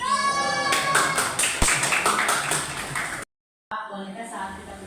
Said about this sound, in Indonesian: Oke, betul, tepuk tangan buat